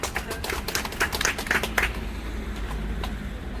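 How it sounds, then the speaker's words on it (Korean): Applause from a crowd welcoming senior alumni during a high school alumni walking event, a steady wash of many hands clapping outdoors with scattered sharper claps, fading slightly toward the end over low background rumble. "뜨거운 박수로 환영해 주시기 바랍니다"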